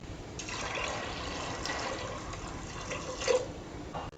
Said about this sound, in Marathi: त्याच्याबरोबर शिजण्यासाठी पाणी सुद्धा घालते.